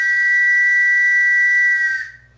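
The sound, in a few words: old tram whistle from Santos, blown by the speaker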